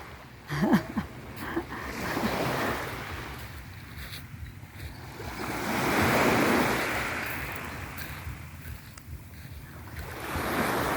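Surf rolls in along a seashore in Antique at high tide, with a broad washing roar that swells and fades, a gust of wind buffeting the microphone, and no talk.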